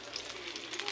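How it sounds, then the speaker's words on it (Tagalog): Squid balls sizzle in hot oil in a pan, a brief steady crackling fry, faint and close, with a hint of a voice in the background. "Niluluto-luto ko muna yung squid balls bago ko igisa."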